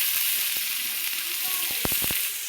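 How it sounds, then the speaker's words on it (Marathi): Ground masala paste sizzles in hot oil on a griddle for a jilebi fish fry, a steady close hiss broken by a few sharp spatula knocks near the end. "हे बघा मसाला टाकत आहे"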